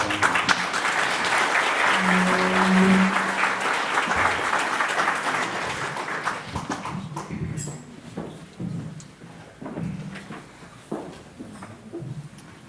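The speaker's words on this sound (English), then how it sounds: "we get a round of applause" Sustained applause from a crowd at a school board candidate forum fills the first half, then thins into scattered claps and fades over the final seconds.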